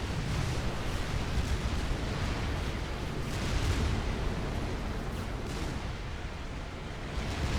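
Explosion of a detonating unit in the strategy video game Supreme Commander 2, a dense, sustained rumbling blast with crackling bursts and booming low end that holds steady and loud throughout, with no voices over it.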